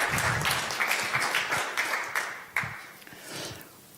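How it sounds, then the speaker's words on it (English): Audience applause at an innovation café event welcoming a startup team on stage, moderate clapping with a few sharper individual claps standing out, tapering off toward the end. "So give a big applause for Carbyon, Lotte, Joshua and Jutta."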